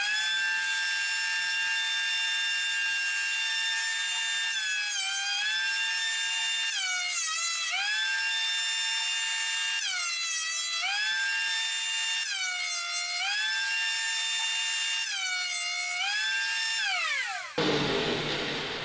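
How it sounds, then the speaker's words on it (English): A wood planer runs through a pecan board, a loud steady high-pitched motor whine that dips in pitch each time the cutterhead bites, several passes in a row, ending with a burst of noise. "head over to the planer, and get it nice and planed down to show that beautiful grain"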